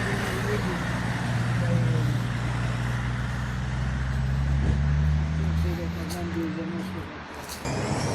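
A city bus pulls up to a stop amid roadway traffic, its engine a steady, loud low drone that fades near the end, with brief rattles and a hiss, people talking faintly nearby.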